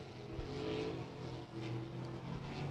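A race car laps Beckley Motor Speedway during qualifying for the Cowboy Classic, a faint, distant engine drone with a steady pitch holding throughout.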